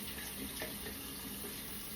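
Tap water runs steadily into a sink to rinse hair color, a continuous close hiss and splash with no talking.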